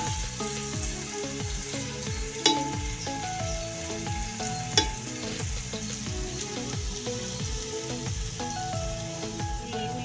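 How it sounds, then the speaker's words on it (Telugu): Onions with salt sizzle loudly in hot oil, a continuous frying hiss with rhythmic scraping as a spoon stirs them around the pan, plus two sharp clinks. "ఎమ్మటి ఉల్లిపాయలు సాల్ట్ వేసుకుంటే కాసేపు దాకా కలిపిస్తున్నాం"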